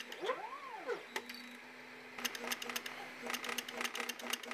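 Homemade 3D printer converted into a dot matrix printer, printing a graphic: rapid clusters of sharp mechanical ticks and buzzy stepping sounds in bursts, with a steady motor hum and a sweeping tone early on.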